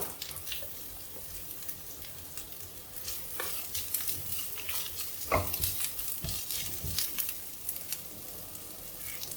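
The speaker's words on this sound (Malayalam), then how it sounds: "എല്ലാം കൂടെ ഒന്ന് വഴറ്റാം." Medium onion and green chilli sautéing in a pan for vendakka mappas, a soft steady sizzle broken by close scraping stirs of a spoon against the pan, with no talk.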